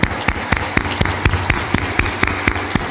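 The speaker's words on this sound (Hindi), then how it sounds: "ताली बजा दो इनके अभिनंदन में" An audience claps to welcome guests at a spiritual discourse gathering: steady, rhythmic clapping in unison, about four sharp beats per second, fairly loud and close, with no talk over it.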